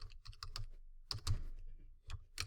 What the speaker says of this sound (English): I'm going to type date accessed